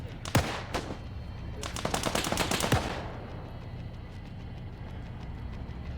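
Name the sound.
gunfire in a video game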